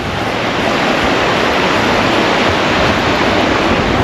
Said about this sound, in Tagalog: Sarap sa tenga ng tunog ng ilog, ang agos.